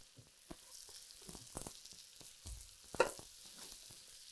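Maryland-style lump crab cakes fry in a hot pan of grease, a faint, soft sizzle with scattered crackles and a few sharper pops or scrapes, close and without talk.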